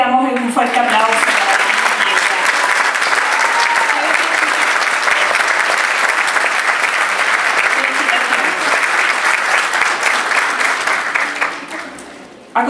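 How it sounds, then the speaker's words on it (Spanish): Strong, continuous applause fills a university graduation hall in Chile, many hands clapping at a steady loud level for roughly twelve seconds, then thinning out quickly at the close. "Reiteramos en un fuerte aplauso"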